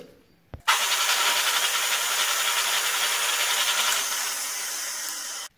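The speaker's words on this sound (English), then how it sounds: "So now I just drill it." A click, then a power drill whirs into metal with a steady, high grinding buzz for several seconds before winding down and stopping, drilling a half-inch hole to extract broken screws or bolts.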